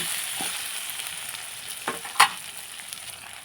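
Chicken for chicken Mughlai fries in a pan with a steady, close sizzle, while a spoon stirs it and gives a couple of brief scrapes and one sharper clink.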